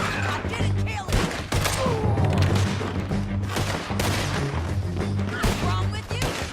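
Gunfire in Red Dead Redemption 2 during a shootout: loud, dense volleys of shots cracking continuously across the scene, with characters shouting over the firing.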